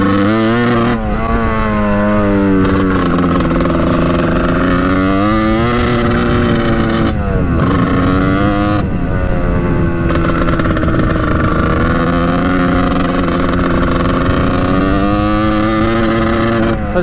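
A 1989 Kawasaki KX125 two-stroke dirt bike engine held at full throttle, a loud, close, continuous buzzing rev with pitch rising and falling as the throttle is worked, alone without speech.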